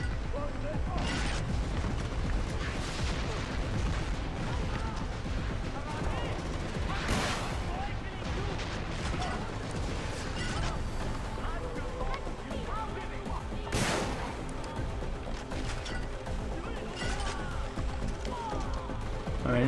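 Far Cry 4 airstrike explosions and gunfire roll through a dense, loud combat mix, with sharp blasts standing out at intervals over continuous rumbling and mechanical clatter; a voice talks over parts of it.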